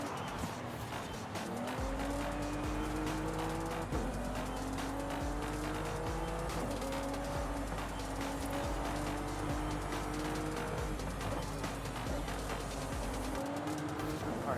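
A 2011 McLaren 12C races toward the finish line in the Forza Horizon 5 video game, its engine droning and shifting pitch continuously with tire squeals and skidding, loud throughout over a steady music-like bed, with no talk.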